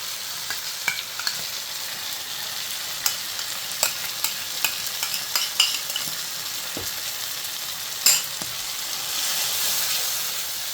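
Veg pasta with mayonnaise and sweet sauce is stirred in a pan over a low gas flame, producing a soft continuous sizzle broken by light scraping clicks and taps, with a louder hiss building near the end.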